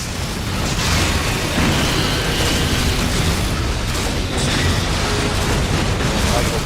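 Explosions from the video game Metal Gear Solid 4 boom one after another, loud and dense, with a continuous rumble between the blasts.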